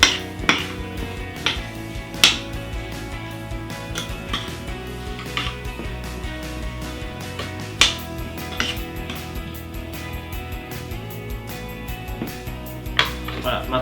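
A spoon stirs blueberries with white sugar and orange juice in a bowl, making repeated sharp clinks and taps against the bowl in an irregular rhythm over a faint steady hum.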